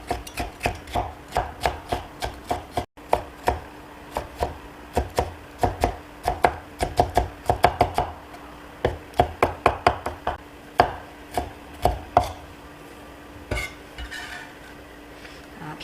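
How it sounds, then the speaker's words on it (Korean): A knife chops bell pepper on a cutting board in quick, crisp bursts of even strokes, close and alone, with short pauses between runs. "피망까지 썰어 두었습니다."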